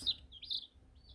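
Bielefelder chick giving a few faint, thin, high chirps in quick succession, close but quiet, with no voices.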